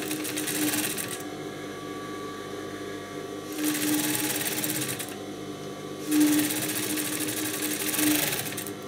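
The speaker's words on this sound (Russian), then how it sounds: "И стачиваем по верхнему срезу." A sewing machine stitches the top edge of a blouse cuff in loud, rapid mechanical runs that start and stop several times, with quiet pauses between bursts.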